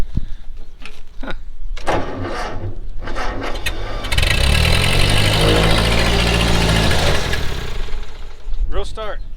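Starting a tractor with fuel problems: a few cranking bursts and clicks, then the engine catches and idles with a loud, steady rumble for several seconds before trailing off into more mechanical noise.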